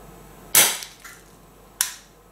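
A sharp, loud electrical bang from a deliberate short circuit, followed by a brief crackle, then a second, smaller snap as an EARU ZigBee smart relay trips, with quiet between.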